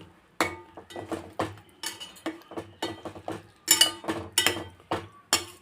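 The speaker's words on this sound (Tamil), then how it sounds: "மெதுவாக இப்படி கலக்கி விட்டுருங்க" A spoon stirs mutton kola urundai curry in a metal pot, giving repeated clinks and scrapes in an irregular rhythm, close and fairly clear with no talking.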